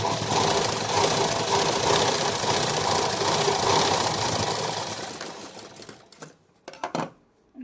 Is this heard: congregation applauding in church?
no